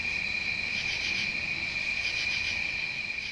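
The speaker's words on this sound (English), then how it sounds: "the same sounds of the insects chirping and buzzing" Constant high-pitched insect chirping and buzzing, a shrill steady drone with gentle pulsing, alone without voices.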